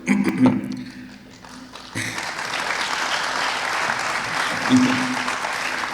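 A seated audience at a public talk honouring local police breaks into applause, a broad steady wash of clapping that swells after a couple of seconds and holds, with a voice briefly audible at the start.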